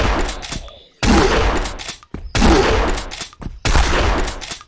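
Shotgun blasts aimed at zombies in the video game Zompiercer, three loud, full-band bursts each lasting about a second, separated by short gaps of quieter game ambience, with no speech over them.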